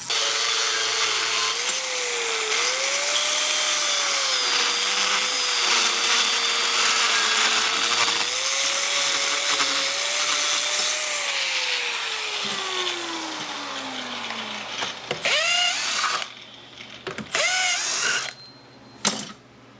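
A ratchet backing rusty nuts off the U-bolts under an old car in a garage, a long continuous whirring grind with a wavering tone that slows and drops, then gives way to short, uneven bursts of clicking and scraping.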